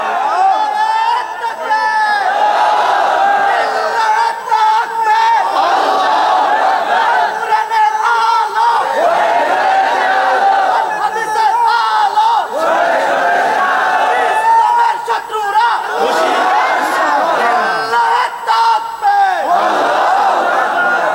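A large gathering at an Islamic sermon shouts the takbir in unison, repeated loud collective chants rising and falling in waves with babble between them.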